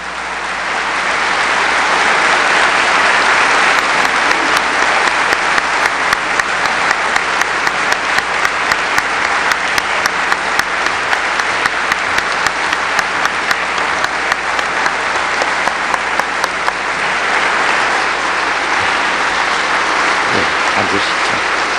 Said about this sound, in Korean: 뜨거운 박수로 대통령님을 다시 무대로 모시겠습니다.